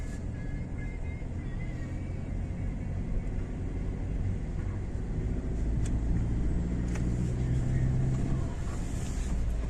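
A car pulls away in first gear along a dusk driving-exam route in Sumy, its steady low engine rumble continuous and close, swelling slightly later on.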